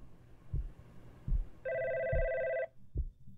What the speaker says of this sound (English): Hear that? A phone.